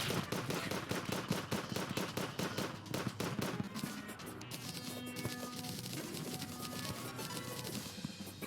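Turrets in the video game Terraria fire in rapid repeated volleys, a dense rattle of gunshot-like blasts that is loud at first and then continues at a slightly lower level, with no talking.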